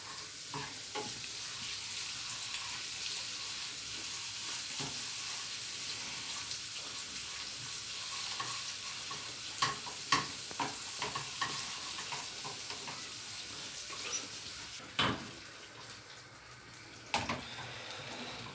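A tomato-paste sauce with red chili flakes sizzles softly in a pot for Turkish tongue soup, a low continuous frying hiss with occasional stirring knocks and a couple of sharper clinks near the end, no talking.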